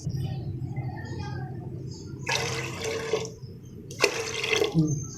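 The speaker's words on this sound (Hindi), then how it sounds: "इसमें अब हम पानी डाल देंगे।" Two short bursts of water splashing into a pressure cooker holding dal, poured nearby over a low steady background hum.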